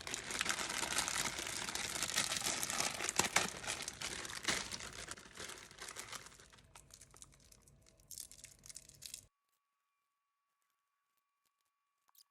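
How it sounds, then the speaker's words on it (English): Caramel candies being unwrapped from their wrappers for a candy-making recipe: close, busy crinkling and tearing of wrapper paper for about nine seconds, then silence. "First thing we're going to do is unwrap all these caramels."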